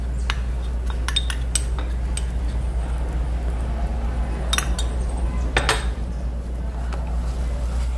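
A utensil stirs flour into melted margarine in a pan, making scattered scraping clinks and taps against the metal over a constant low hum of the stove or kitchen.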